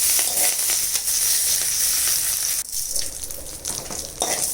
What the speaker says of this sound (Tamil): மீதி கடுகு, ஜீரகம் போட்டு கருவேப்பிலை நல்லா வறுத்துட்டு கடைசியில் உளுத்தம் பருப்பை போட்டு